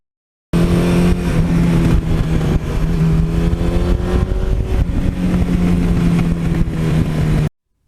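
A 1982 Suzuki GS1100E motorcycle engine hums loud and steady while riding, a constant low drone with slight pitch shifts as the throttle changes, heard close with wind noise and no voices.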